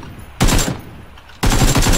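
Automatic gunfire in PUBG comes in two loud, dense bursts of rapid shots, the first fading into a lull before the second erupts close by, with no talking over it.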